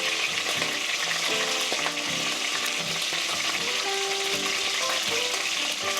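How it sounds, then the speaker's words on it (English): Mushrooms cooking in a pot give a loud, continuous sizzle and crackle of frying, steady and close throughout with no talking. "that pot sounds like it's about to take off"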